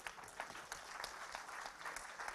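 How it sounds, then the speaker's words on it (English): A debate audience applauds steadily, a dense patter of many hands clapping at moderate distance, fairly quiet and without talk. "Let's give them a round of applause."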